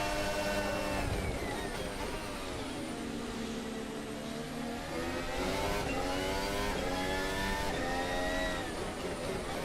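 An F1 race car engine heard onboard, a loud continuous high-pitched whine that rises and falls through gear changes and acceleration with no pauses.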